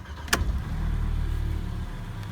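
A Mercedes-Benz CLA 180 engine starts with a quick click and a sharp catch, then settles into a steady low idle hum.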